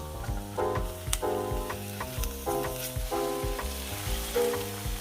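Onion and mushroom sweating in a pan over medium heat, a soft steady sizzle with occasional light spatula scrapes and clinks, close by and without speech.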